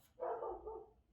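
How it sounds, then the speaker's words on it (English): A single short dog bark, or a brief bark-like yelp, somewhere in the room, fairly quiet and on its own. "And that's my dog going there."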